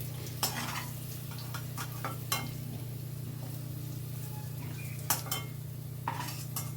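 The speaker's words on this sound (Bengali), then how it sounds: "এবার আমি আলুটাকে অন্য একটা পাত্রের ভেতর তুলে রাখছি" Fried potatoes are scooped from hot oil into another pot with a metal utensil, giving sporadic clinks and scrapes over a steady low hum and soft sizzle.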